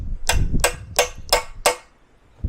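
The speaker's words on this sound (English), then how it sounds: "we're going to use our hammer and pry bar to get them out." A steel hammer strikes a pry bar wedged into reclaimed wooden lumber to work out nails, five sharp, evenly spaced metallic taps ringing close and loud, with no talk.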